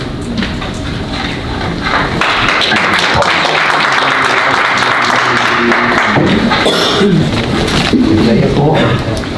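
An audience at a town council meeting applauds with steady, dense clapping that swells in the middle, while voices talk over and around it.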